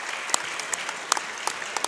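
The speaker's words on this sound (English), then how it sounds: "Let's have one more round of applause for our 2 inductees this evening." Sparse, scattered clapping from a small crowd at a high school boys' basketball game honoring two inductees, a few sharp individual claps standing out over a steady soft patter.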